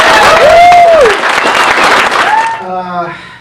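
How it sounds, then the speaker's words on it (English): Audience applause at an anime convention panel swells under a speaker's voice and crowd noise, loud and close, then fades as music with steady tones takes over near the end. "Round of applause for our guest."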